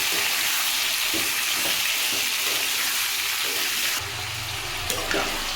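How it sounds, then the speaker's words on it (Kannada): Onion and tomato frying together in a pan for a chicken green masala gravy, a steady close hiss with faint stirring scrapes; the frying tone changes partway through, no talking. "ಈರುಳ್ಳಿ ಟೊಮೊಟೊ ಎರಡು ಒಟ್ಟಿಗೆ ಹಾಕ್ಬಿಟ್ಟು ಫ್ರೈ ಮಾಡ್ಕೊಂಡು"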